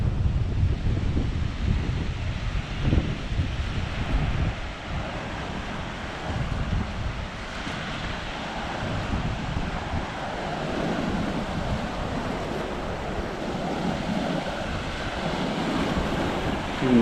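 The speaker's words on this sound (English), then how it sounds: "there's a few rocks out in the sea where the waves are crashing against them" Sea waves crash and surge against rocks offshore, a continuous loud roar of surf with heavy wind buffeting the microphone and no voices.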